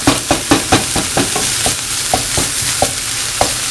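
Ground turkey sizzles steadily in a hot pan while a utensil breaks it up, giving rhythmic scraping strokes, quick at first and then spaced out, close and clear with no talking.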